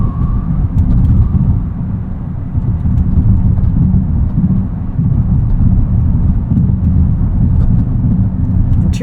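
A 2025 Hyundai Ioniq 5N accelerates under throttle, its electric motor giving a loud, steady low rumble and drone with road noise and no talk.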